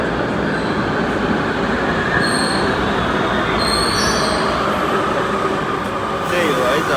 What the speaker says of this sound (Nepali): सरर मेट्रो आइसकेको छ